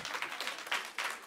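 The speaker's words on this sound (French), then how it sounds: "On peut les applaudir." Audience applause at a church teaching session, a scattered, moderately faint patter of clapping hands from a small group.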